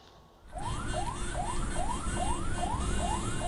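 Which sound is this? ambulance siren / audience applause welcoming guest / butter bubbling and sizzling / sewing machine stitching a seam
ambulance siren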